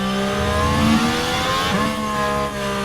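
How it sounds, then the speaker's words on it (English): Formula 1 race cars from F1 Manager 2024 roar past in an overtake, a loud, steady high-revving engine whine with shifting pitch and a brief swell mid-pass, heard alone without talk. "Bottas overtakes Gasly."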